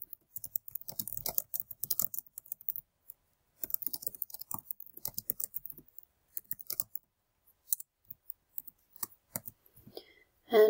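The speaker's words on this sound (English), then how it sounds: "whatever message it is that we might be typing to the agent" Computer keyboard keys tapped in quick bursts while a message is typed into real estate document software, close and crisp with short pauses between runs, ending in a final click; no voices.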